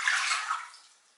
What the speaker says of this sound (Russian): В глубокую чашу добавляю 500 мл теплой воды